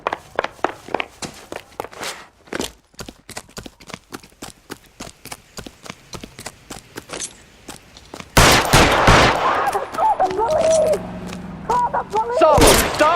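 Rapid gunfire in L.A. Noire, a long string of sharp close shots in quick succession for about eight seconds, then a louder burst of noise and shouting voices with scattered shots after it.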